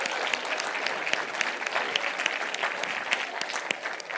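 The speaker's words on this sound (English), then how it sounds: "I think they deserve an enormous round of applause for putting on this event." An audience claps steadily for a university Media and Film Department after an event, a dense, sustained round of applause with scattered sharper claps throughout.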